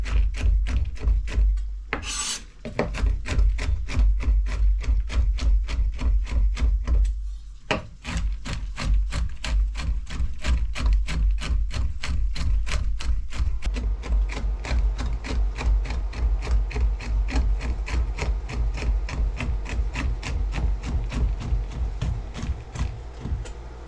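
Walnuts chopped by hand with a knife on a board, a fast steady run of sharp rhythmic knocks, close and clear, with a couple of brief pauses.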